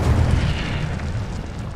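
Incendio fire spell blast in Hogwarts Legacy, a loud, deep rumbling boom with a roaring low-end burst that fades slowly over under two seconds, heard alone.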